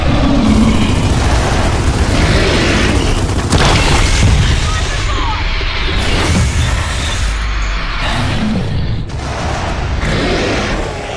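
A frag grenade detonates in the video game Gears of War 4 with a loud, heavy boom, followed by dense rumbling battle noise and scattered bursts, while game voices call out over the din.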